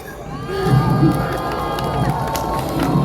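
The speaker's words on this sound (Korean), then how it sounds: "자랑스러운 세 분의 동지들께 그 어느 때보다 뜨거운 박수, 환호 부탁드리겠습니다." A large outdoor labour rally crowd on Sejongdaero breaks into loud applause and cheering, a dense wash of clapping and shouts that swells and holds steadily close by.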